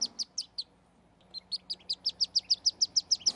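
A wood duck duckling peeps from inside its pipped egg during banding, giving a quick series of thin, high chirps, a short pause, then a longer regular run of peeps, close and faint.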